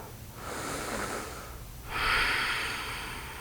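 Slow, audible breaths during an Ashtanga seated yoga pose: a soft inhale followed by a stronger, airy exhale, close and unhurried, with no talking.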